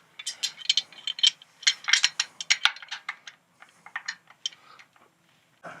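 Bolts being fitted and tightened on the air cleaner cover of a 2024 Harley-Davidson Road Glide with a Screamin' Eagle Extreme Wedge intake, giving close, irregular metallic ratcheting clicks and rattles in quick bursts that fade into quieter taps.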